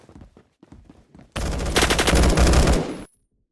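A rapid burst of high-rate automatic gunfire in the Roblox game Phantom Forces, a loud dense stream of shots lasting under two seconds after a few quieter clicks and handling sounds.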